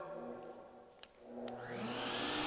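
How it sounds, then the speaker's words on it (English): A shop vacuum switched on with a Fastcap remote switch: after a button click, the motor starts and its whine climbs steadily to full speed nearby, with no talk. "Vacuum comes on, do my vacuuming"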